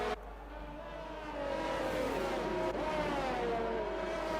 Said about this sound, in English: Look at the sound of the cars.